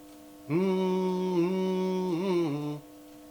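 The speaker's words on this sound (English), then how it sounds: "if you hear that hum coming from the radio" A steady electronic hum from the frequency counter in an older Galaxy DX CB radio, with a buzzy, harmonic-rich tone, starts abruptly, holds for about two seconds with slight wavering, then cuts off.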